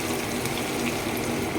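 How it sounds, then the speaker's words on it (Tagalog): Water pours steadily into a cooking pot of native chicken tinola with carrots, a continuous, even rushing splash, close and fairly loud, with no voices. "Lagyan na natin siya ng tubig."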